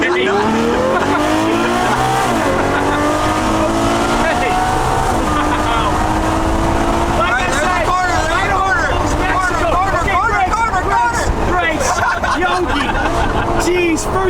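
Ferrari accelerating hard, its engine note rising in repeated loud sweeps as it revs through gears, close and continuous with tire noise, while someone talks over it.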